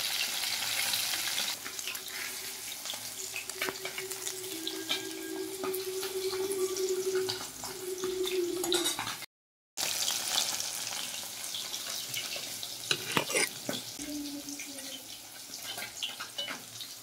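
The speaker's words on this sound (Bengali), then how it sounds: "মাছের টুকরোগুলো লাল লাল করে ভেজে নিয়েছি।" Pieces of fish fry in hot oil for a fish curry with drumstick pods, giving a steady, close sizzle that stops for a brief moment before carrying on, with faint clatter as the pieces are lifted out.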